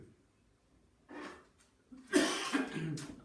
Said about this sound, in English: Gives me a chance to cough as well.